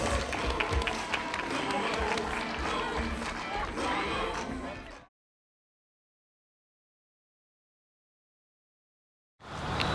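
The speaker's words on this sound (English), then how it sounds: "Let's give them a big round of applause" Wedding reception guests applauding after the garter toss, a brisk round of clapping and cheering under a voice, lasting about five seconds before cutting to silence, then resuming briefly at the end.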